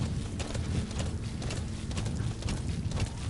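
Horse hooves galloping in Metal Gear Solid V: The Phantom Pain, a steady rapid clip-clop rhythm of hoofbeats over continuous low rumbling game ambience.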